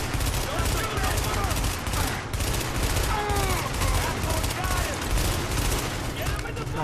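Gunfire in the video game The Division, with dense rapid bursts of automatic shots overlapping continuously and loud throughout, while voices in the game can be heard over the shooting.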